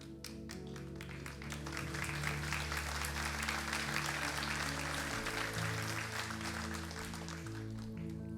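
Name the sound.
congregation applauding in church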